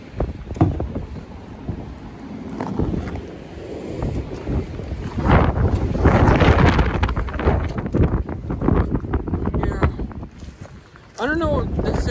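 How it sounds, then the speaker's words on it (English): Strong outdoor wind of about 15 to 20 mph buffets the microphone in a continuous, loud roar that rises and falls in gusts, while a person talks over it. "I can't believe the wind is so."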